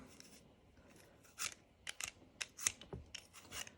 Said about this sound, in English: the julienne peeler, I do like it for things like this